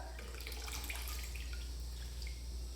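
Water drips steadily off washed apple pieces draining after a rinse in cold water with lemon juice, a quiet, continuous patter of small droplets close by over a low hum, with no talking.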